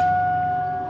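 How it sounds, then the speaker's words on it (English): A Chevrolet Silverado pickup truck engine idles steadily up close, giving a constant low hum with a faint regular ticking over it and no talking. "Listen to this unit purr."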